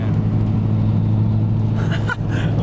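A car drives past in the rain, a steady low rumble mixed with wet road hiss, fairly close and loud, with a brief swell as it goes by.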